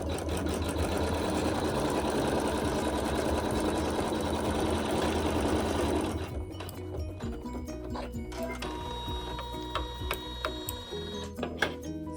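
A sewing machine stitches a seam on a quilt block with a loud, close, steady mechanical whir for about six seconds. Then it stops, leaving quieter clicks and handling of fabric.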